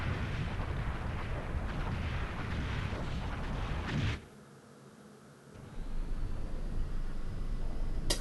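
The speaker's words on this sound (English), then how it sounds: "Bomb exploding, keep play." Bombs burst in a war video game with aircraft, a loud, dense roar of explosions that cuts off abruptly, falls to a brief low lull, then swells back into sustained rumbling blasts.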